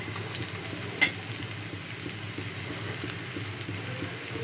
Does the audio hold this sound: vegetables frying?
yes